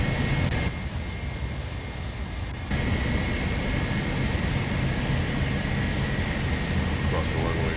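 Embraer E145 jet engines at taxi in X-Plane 11 hold a steady, loud, broadband roar and whine throughout, a continuous drone with a brief slight dip in the middle and no distinct events.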